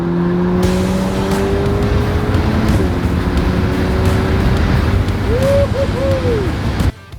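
A Ferrari Portofino drives on the road with loud, steady engine and road roar, the engine note rising and briefly revving near the end before cutting off abruptly.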